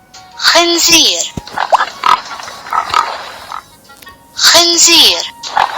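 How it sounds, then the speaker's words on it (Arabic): A farm pig oinks and squeals in two loud bursts, at the start and near the end, with grunting and child-like vocal sounds in between, fairly close and clear. "خنزير"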